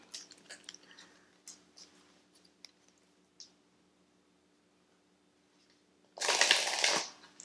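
A tarot deck is shuffled in a close, loud burst of riffling cards at the very end, after several seconds of faint card handling and quiet taps.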